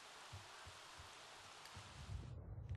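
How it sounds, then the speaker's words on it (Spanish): Heavy rain in the video game The Sims 3 hisses steadily as a broad, even wash of noise, with a few soft low thumps beneath and a sudden cut near the end. "Es que llueve un montón, por eso no hemos salido de casa."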